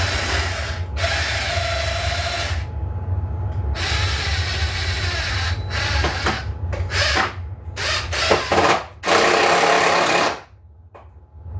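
A power drill whirs in short bursts while a wooden window is replaced with a vinyl replacement window, close, loud trigger-pulled runs of several seconds separated by brief pauses, with no talking.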